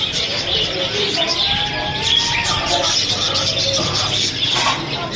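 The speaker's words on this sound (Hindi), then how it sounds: "एक ऑस्ट्रेलियन तोते की जोड़ी चाह दो" Australian parrots in a bird shop chirp and tweet in a busy, overlapping chorus, with some cooing calls mixed in, steady and fairly close throughout.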